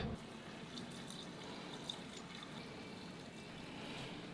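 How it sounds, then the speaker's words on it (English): Soapy water pours steadily into the screen-wash reservoir of a salvaged 2022 BMW 218i, a close, continuous gush of liquid filling the container with no talking. "I've got some soapy water right here. I'm just going to fill this one up."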